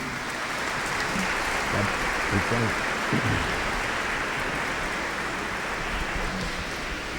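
Congregation applauding during Sunday Mass, a continuous wash of clapping with a faint voice briefly audible beneath it, steady in level from start to finish.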